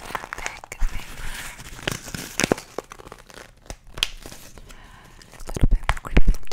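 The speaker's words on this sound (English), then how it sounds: "The paper is so crunchy, crunch." Thick paper crinkles and crunches close to the microphone in an uneven run of sharp rustles and crackles, with a few louder crunches near the end.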